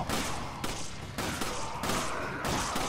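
Gunfire in Resident Evil 5 during a fight in the Harshlands: four sharp, evenly spaced bursts of shots at moderate distance, each cutting off abruptly, with a faint voice underneath.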